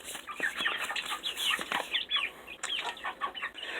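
Chickens on a small farm, including black sex links and buff Orpingtons, cluck and chatter steadily at close range, a busy overlapping stream of calls with no talk over it.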